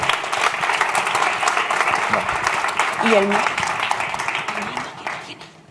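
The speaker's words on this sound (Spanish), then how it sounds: "Pues vamos a darle un aplauso muy importante a Natalia y a Carlos" Conference audience applauding two speakers at a WordCamp event in Madrid, a sustained wash of clapping from a room full of people, with a voice speaking briefly over it before it fades out.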